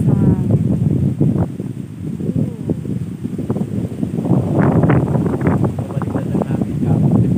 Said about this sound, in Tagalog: Grabe kahit malakas ang hangin